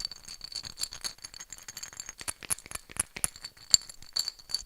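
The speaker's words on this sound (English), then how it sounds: "Cinnamon sticks, pretty interesting sounds." Cinnamon sticks rattle and clatter inside a spice bottle in quick, irregular bursts of hard woody clicks and clinks, close and fairly loud, with no talking.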